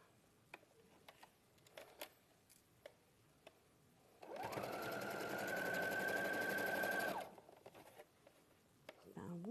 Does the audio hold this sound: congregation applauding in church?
no